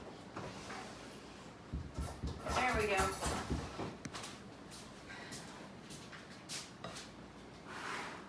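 A kitchen drawer slides open and shut with soft wooden knocks and rattles amid cooking clatter while a bacon and spinach quiche is prepared; people talk quietly throughout.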